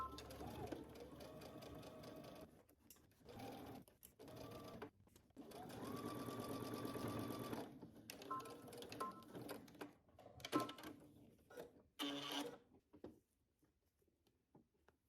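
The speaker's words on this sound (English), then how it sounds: "I'm going to stitch in the ditch, which means that I want my needle to go right in between this seam" A sewing machine stitches in the ditch along a skirt yoke seam in several bursts of rapid needle chatter, pausing and restarting, quiet and close with a few fabric-handling rustles between runs.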